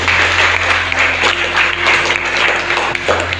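Students in a secondary-school physical education class clap together, dense even applause over a constant low electrical hum, fairly loud and close.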